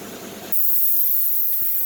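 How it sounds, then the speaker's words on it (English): An air compressor kicks on abruptly after a brief stretch of workshop clatter, then holds a steady, loud, high-pitched hiss and hum, with a couple of faint knocks beneath it, while a wheel hub and bearing are being pressed. "Sorry about the air compressor"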